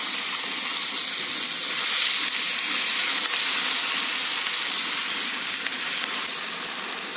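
Moong dal mangodes fry in hot oil, giving a loud, close, continuous sizzle with a hissing, crackling texture throughout.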